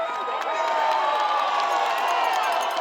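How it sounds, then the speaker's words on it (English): Green Machine fans at a football game against Sandwich clap and cheer in a continuous, fairly distant roar of applause and shouts that holds steady throughout. "Green Machine are clapping."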